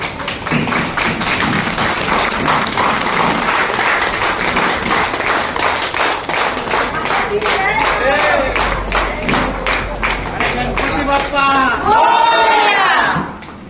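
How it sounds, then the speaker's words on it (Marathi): A standing audience at a club inauguration gives loud, sustained applause, dense rhythmic clapping mixed with crowd noise and cheering that builds toward the end, with scattered voices over it. "एकदा उभे राहून काकांसाठी एकदा जोरदार टाळ्या"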